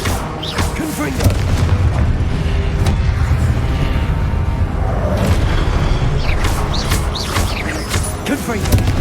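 Confringo spell blasts in Hogwarts Legacy go off as a series of heavy booms with bright whooshing bursts and crackles, loud and close, repeating throughout over a dense battle din.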